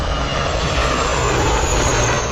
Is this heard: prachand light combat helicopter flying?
yes